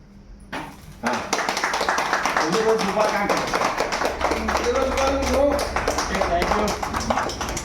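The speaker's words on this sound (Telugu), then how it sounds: "చప్పట్లు" Several people clap rapidly and continuously for several seconds, close by, at a surprise wedding anniversary party, with voices talking and calling out over the applause.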